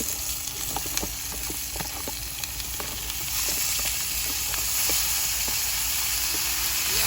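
Green papaya sautés in a hot pan, giving a loud, steady sizzle and hiss sprinkled with small crackles and pops, swelling a little louder partway through, with no talking.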